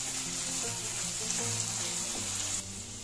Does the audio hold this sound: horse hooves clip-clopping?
no